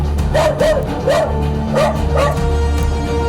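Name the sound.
pet dog barking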